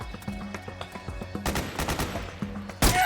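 Metal Gear Solid 4 gunfire cracks out in rapid bursts of suppressing fire, a loud clatter of shots with short gaps between volleys and a final sharp blast.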